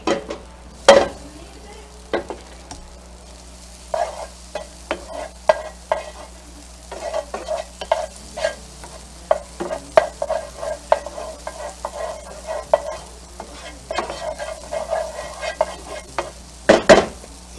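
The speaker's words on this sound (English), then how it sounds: "Melt that butter." Butter melts and sizzles in a pan with a continuous close crackle, overlaid by frequent spatula taps and scrapes and a couple of louder clanks near the start and end; nobody speaks.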